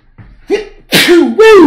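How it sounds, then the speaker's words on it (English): A close, loud sneeze with a short wind-up intake followed by two strong voiced bursts, sharp and forceful in a quiet room. "I'm gonna sneeze again."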